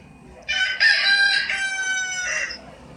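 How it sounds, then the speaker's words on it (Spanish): A rooster gives one clear, loud crow lasting about two seconds, rising and then trailing off, with nothing else heard behind it. "¿Cómo hace el gallo?"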